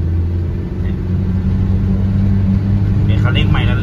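A 1994 Nissan Big M pickup with a red-top engine accelerates, a steady loud low rumble of the engine running throughout, with someone talking over it near the end.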